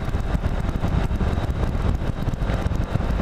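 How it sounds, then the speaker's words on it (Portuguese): A Haojue Chopper Road 150 motorcycle cruises on an open road at night, its engine a steady, loud rumble blended with constant wind rush throughout. "Aproveito pra botar a motinha pra rodar e economizo."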